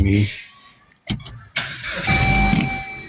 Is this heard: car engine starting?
yes